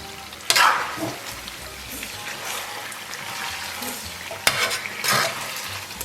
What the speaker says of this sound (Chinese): 然后咱们把辣椒和那个芹菜段给它放里边再翻炒一下